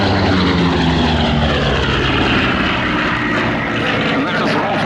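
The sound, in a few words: Bearcat naval propeller aircraft flying in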